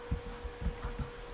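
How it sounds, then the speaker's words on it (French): A noisy desktop computer runs with a steady low hum and soft, regular throbbing pulses, close and fairly quiet, with no talk. "C'est pas un aspirateur, c'est le bruit du PC de ma mère."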